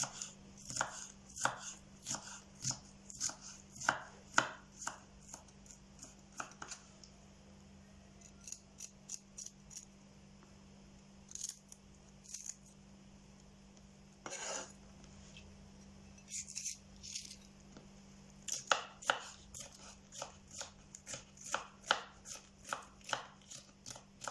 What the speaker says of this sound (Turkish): Evet yeşil biberimi de doğradım.